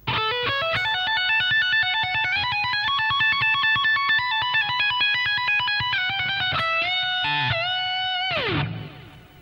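An electric guitar plays a sustained, overdriven solo phrase with held notes, ending with pitch bends that slide upward before the sound cuts off.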